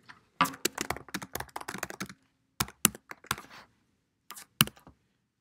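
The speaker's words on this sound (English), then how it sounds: "Type your question in." Keys clatter on a computer keyboard as a question is entered into a test-creation form, quick clustered bursts of close, crisp taps separated by short pauses.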